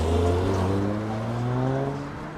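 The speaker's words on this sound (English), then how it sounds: "Yes, I waved that car through." A car drives past on a road during a city walk, its engine hum loud and close at first, then easing off with a gradually falling pitch as it moves away.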